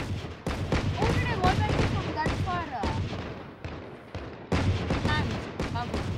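Gunfire in a Valorant Deathmatch round cracks out in repeated sharp bursts, some shots piercing through walls, over a busy game soundscape with voices talking between shots.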